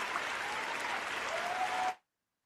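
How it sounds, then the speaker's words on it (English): Applause sound effect: a dense burst of clapping at steady loudness for about two seconds, then cutting off abruptly into silence. "I like that whole applause thing."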